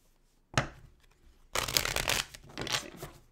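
Tarot cards are being shuffled close by in two bursts, a brief riffle followed by a longer, louder papery shuffle with crisp flicks, with no speech over it.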